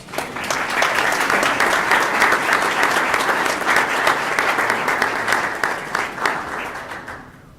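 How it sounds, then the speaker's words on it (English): School board meeting audience applauding an honoree, a steady, moderately loud burst of many hands clapping that holds for several seconds and then tapers off. "Let's give Mr. White a round of applause"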